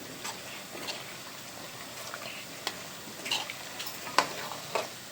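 Bhajiya mixture is stirred and fried on a gas stove, a quiet sizzle under irregular scraping and clinking strokes that grow busier and louder toward the end, with no talking.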